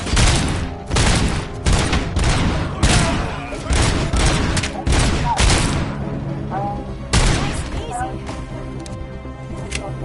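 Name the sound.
gunfire in Call of Duty Black Ops 4 video game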